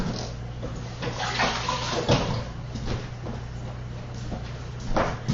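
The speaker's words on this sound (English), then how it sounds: "Let me wash my hand really quick so I don't smear everything." Running tap water pours steadily while hands are washed beneath it, a continuous splashing hiss with a few brief clatters, close and moderately loud, with no talking.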